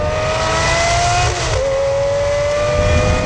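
A Lamborghini Murcielago LP670-4 SV's naturally aspirated engine revs hard on a scenic road, a loud, close, high-pitched wail. It dips briefly during a shift through its ageing single-clutch gearbox, then climbs again.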